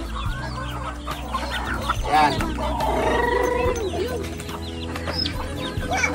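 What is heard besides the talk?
chickens clucking while being fed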